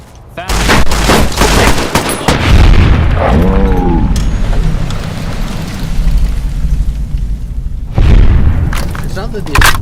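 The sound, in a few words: gunfire from guns in a video game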